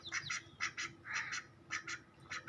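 Several ducks quack in quick, repeated bursts, close and clear, with short pauses between clusters of calls and no talking.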